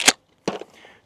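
Suppressed Mossberg 500 Hushpower 12-gauge shotgun fires outdoors at skeet, one sharp muffled crack followed a moment later by a second duller thump and a faint fading tail.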